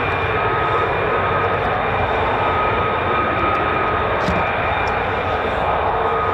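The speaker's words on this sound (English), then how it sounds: "Hence it's called a short takeoff." An F-35 fighter jet makes a short takeoff at RAF Lakenheath, heard as a steady, loud, broadband engine roar that holds constant throughout with no break.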